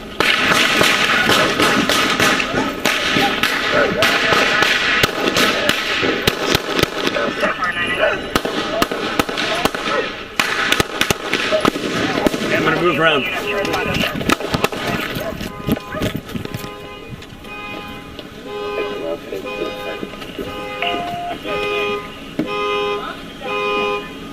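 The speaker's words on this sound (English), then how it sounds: "Shots are being fired." Sharp cracks of gunfire ring out during a police officer-involved shooting in Bakersfield, a loud rapid burst of bangs with shouting voices and vehicle noise, then quieter sounds and a repeating tone.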